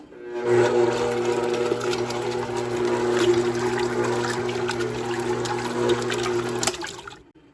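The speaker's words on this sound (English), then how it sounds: "This is the sound your butter makes when it's done." An electric mixer hums steadily while raw milk cream sloshes and churns loudly inside as it separates into butter and buttermilk, then the motor cuts off and the sound stops.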